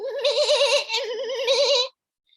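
A single goat bleats in one long wavering cry lasting nearly two seconds, close and clear, then stops into silence.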